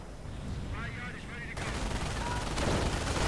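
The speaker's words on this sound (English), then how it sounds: "And of course an MG42 right here in this building" MG42 machine gun fire in a WWII strategy video game, dense crackling bursts rising in intensity partway through and mixed with other battle noise, heard at moderate level with game effects underneath.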